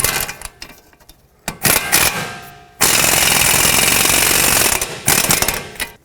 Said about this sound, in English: You want to keep tightening so that the bolt gets sucked through all the way.